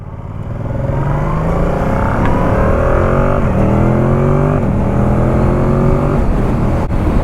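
A 2025 Yamaha MT-07 motorcycle with automatic shifting pulls away and accelerates hard, its engine note climbing through several gear changes. The sound is loud, close and continuous, and no voices are heard.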